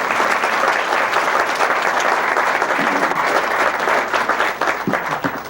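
A crowd at a Chicago hotel gathering gives loud, sustained applause for the school board president as she comes up, a dense wash of clapping that carries on without pause.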